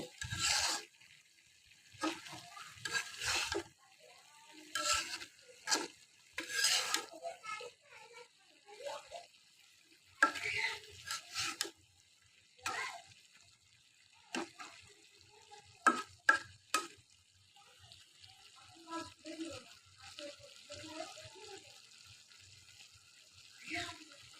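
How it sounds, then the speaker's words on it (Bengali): Pabda fish curry with eggplant and potato is gently stirred in a pan, soft scraping and wet rubbing strokes coming in bursts with a faint sizzle, close and fairly quiet, with pauses between. "মাছগুলো এ পর্যায়ে আমি একটু আলতো হাতে মিশিয়ে দিব"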